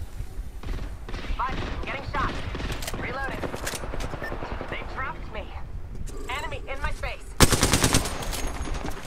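Rapid automatic gunfire crackles in dense bursts during an Apex Legends fight, loud and near, layered with voices talking over it and a heavier burst toward the end.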